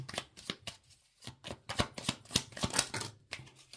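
Tarot cards being shuffled and drawn: a rapid series of crisp papery snaps and riffles, close and fairly loud, with brief pauses between bursts and no talking.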